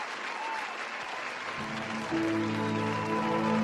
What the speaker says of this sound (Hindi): पंडाल तालियों के शोर से गूंज उठा।